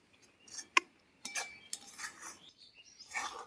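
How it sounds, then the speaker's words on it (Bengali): A spoon scrapes and clinks sporadically against a pan while raw mango pickle with spices is stirred. The sharp, quiet taps are separated by near silence. "মশলা দিয়ে ভালো করে নাড়াচাড়া করে নিয়েছি"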